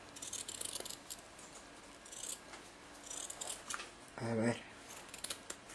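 Scissors snip through rigid fabric in a series of close, crisp cuts, with someone speaking briefly in Spanish over the quiet cutting.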